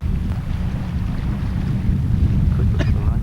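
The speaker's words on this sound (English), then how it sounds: "Really windy here." Strong wind buffets the microphone at a lake, a steady low roar that fills the whole stretch, with faint splashes or rustle rising briefly near the end.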